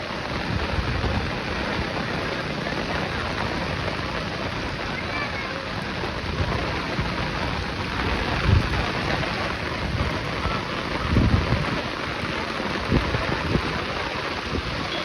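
Heavy monsoon rain roars over a flooded village with knee-deep water, a dense continuous wash close by with low rumbling swells that may be thunder, and voices talking faintly underneath.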